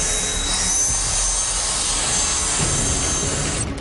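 Cordless vacuum cleaners, a G-Tech Multi and a Dyson Animal, run while cleaning a car, giving a steady, loud whirring rush that continues throughout and stops abruptly at the end.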